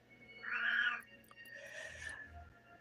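A cat gives one clear, fairly close meow, followed by a softer, fainter second meow in a quiet room.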